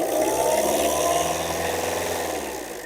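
Tata Indica car engine revved while stationary, a steady loud drone that rises slightly in pitch and then eases off over a few seconds, with no one speaking.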